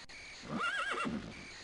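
A horse in the video game Daggerfall gives a single short, wavering neigh, clear and close against a quiet background.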